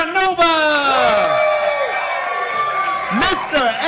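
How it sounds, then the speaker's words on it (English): Crowd at a Louisville arm-wrestling championship event cheering and whooping in applause, loud and sustained with high shouted voices throughout. "We have a round of applause for every one of these."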